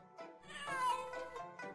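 A cat meows plainly and alone, several drawn-out, wavering meows running together over a little under two seconds, fairly close and clear with no talk over it.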